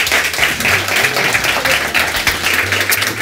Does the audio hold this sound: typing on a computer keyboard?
no